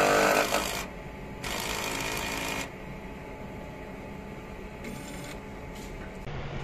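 An eco solvent printer whirs and buzzes mechanically in bursts during a print head cleaning, motors starting and stopping with a steady hum between, close by and moderately loud.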